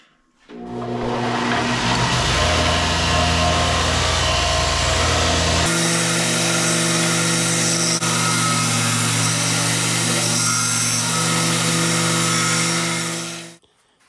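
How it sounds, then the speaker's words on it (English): A belt disc sander grinds a workpiece in a woodworking shop, a loud, steady motor whine with abrasive rasp that shifts in tone midway as the piece is pressed, running continuously for over ten seconds before spinning down. "So now I'm going to bring it over to the belt disc sander and give that a sand."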